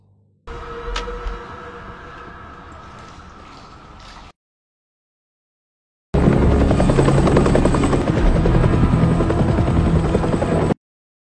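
A CIA helicopter drawing near in a film, a loud steady rotor roar with an engine whine, first at moderate level for a few seconds, then a pause of silence, then returning louder and closer.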